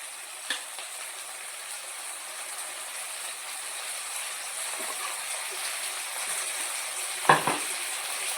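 Ginger-garlic paste and tomatoes fry for a Telugu-style mutton curry, giving a steady low sizzle throughout with a sharp clatter of stirring near the start and a louder scrape toward the end.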